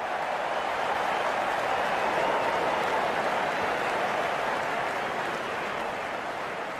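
Crowd applause from the Real Cricket 22 video game swells as a broad, steady roar of clapping and cheering, dense and sustained with no clear individual claps.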